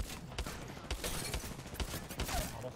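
Gunfire in Apex Legends during a ranked match. Quiet, distant shots crack out at irregular intervals over a dense wash of game noise, with speech faintly underneath.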